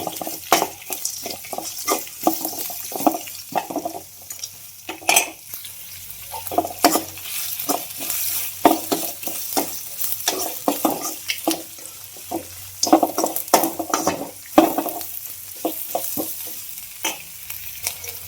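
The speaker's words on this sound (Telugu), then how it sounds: "అలాగే ఆనియన్స్ బాగా వేయించుకోవాలి" Onions frying in hot oil with whole spices for vangi bath, stirred with a spoon; a continuous close sizzle punctuated by repeated scraping strokes against the pan, with no talking.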